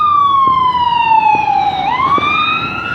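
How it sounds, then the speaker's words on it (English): An ambulance siren wails along the street, its steady tone sliding downward and then back up as the vehicle passes close by over low traffic rumble. "Nothing but an ambulance."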